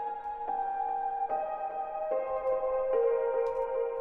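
A virtual piano with a calmer, less agitated automated character from the opening of an electronic track plays a slow run of five sustained, fairly quiet notes, alone with no talking.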